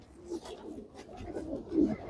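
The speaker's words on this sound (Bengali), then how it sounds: "তো এইটা হচ্ছে একটা নর কবুতর" A male homing pigeon coos in low, soft murmurs that swell and fade across the stretch, growing a little stronger near the end, close by and fairly faint.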